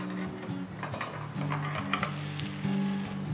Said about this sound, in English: Now I just need to flip it over